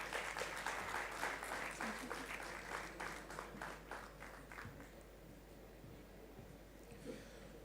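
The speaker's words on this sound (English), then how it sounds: "Give a huge round of applause" Audience applause at a youth consultation event in Raipur, a dense wash of clapping that starts loud and gradually thins and softens over several seconds.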